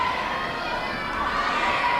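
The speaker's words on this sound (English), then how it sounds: "It is a loud crowd" A packed gym crowd at a 2000 girls' basketball game between Clearview and Gloucester Catholic roars in a steady, dense wash of cheering and shouting, loud and continuous with no pauses.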